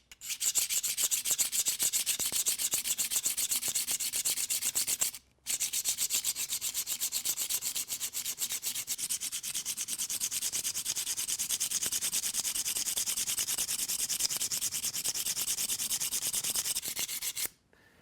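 A two-blade broadhead blade being sharpened, its edge rubbed with steady, continuous strokes against an abrasive for about seventeen seconds, close and loud, with one brief pause near the five-second mark and no talking.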